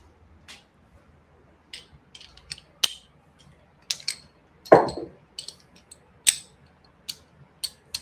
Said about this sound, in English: Yes, it's on the ratchet.